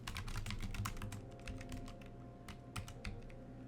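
Rapid typing on a computer keyboard, close and quiet, with a steady patter of individual key clicks and a few sharper taps near the end, no voices.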